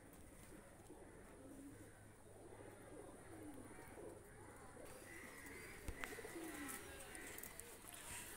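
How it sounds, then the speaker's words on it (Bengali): Soft cooing of a male Ferozpuri pigeon drifts in low, repeated phrases over steady background noise, faint and somewhat distant. "এটা হলো ফিরোজপুরি নর কবুতর"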